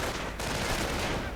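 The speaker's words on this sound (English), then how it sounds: "More incendiary grenades going off" Incendiary grenades burst in a WWII strategy game, a dense, loud crackle of overlapping explosions and gunfire filling the whole moment without pause.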